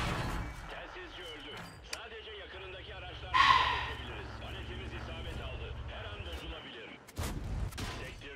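Two sharp tank cannon blasts in World of Tanks, one midway and one near the end, stand out over engine rumble and quieter game sounds.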